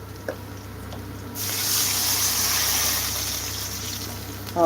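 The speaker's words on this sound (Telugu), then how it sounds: "కొంచెం నీళ్ళు ఎక్కువగానే పోయి" Water pours steadily into a pan while semiya upma is cooked in a home kitchen, a constant hissing splash that starts abruptly after a brief quiet moment and runs on without talk.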